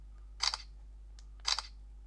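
Two crisp camera shutter clicks from a Samsung Galaxy Tab A9 triggered with the volume button, about a second apart, close and clear over a quiet background.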